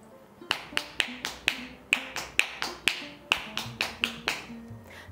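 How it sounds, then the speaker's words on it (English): Bare feet stamp and tap on a hard floor in Kathak dance footwork, a quick, steady rhythm of a dozen or so sharp percussive strikes close by. "So this sound you have to bring it out from your feet."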